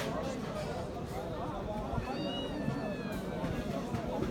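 A cat meows while playing with a mouse it has caught, the calls rising over a steady crowded background of voices and street noise, with people talking nearby.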